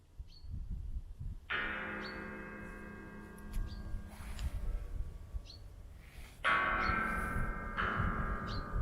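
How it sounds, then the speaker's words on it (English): Scrap metal pieces rigged as improvised instruments in an abandoned oil refinery clatter and ring with bell-like metallic tones, two strong strikes decaying over a steady background rumble. "Just listen to the sound of all these clattering together."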